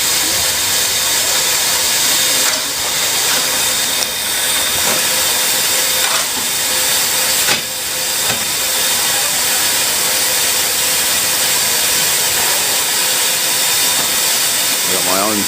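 Steady, loud hiss of steam from a coal-fired steam locomotive on a heritage rail day, running continuously throughout with a few brief bursts, while people talk faintly nearby.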